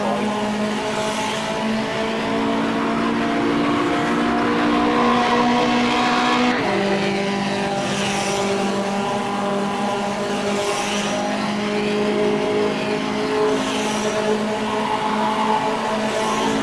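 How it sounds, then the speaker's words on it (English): Ford Cortina race car in the rFactor driving game with the 1965 Grand Prix Legends season mod at the Longford circuit, its engine droning steadily and loud throughout, with a pitch drop partway through as it shifts, and no talk. "I'm really excited to be driving my little Cortina around here"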